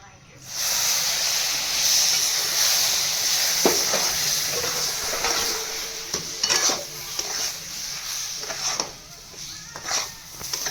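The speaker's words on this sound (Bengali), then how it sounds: "এবার আমি অল্প অল্প করে জল দেবো" Water poured a little at a time into hot fried semolina and onion in a pan with ghee, a loud steamy hiss that settles into bubbling, with metal spoon clinks and stirring scrapes.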